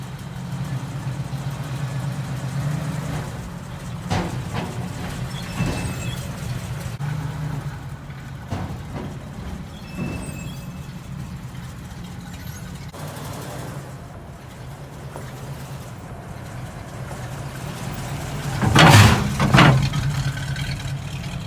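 A 1965 Ford Mustang running and driving, its engine a steady low rumble held through the whole stretch, with a few brief surges and a louder pair of bursts near the end, no voices.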